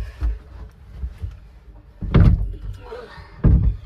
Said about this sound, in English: Pull the door closed.